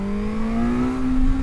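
A motorcycle with an engine built for super sport bikes holds a steady high rev, its strong buzzing whine climbing slowly and running loud and continuous throughout.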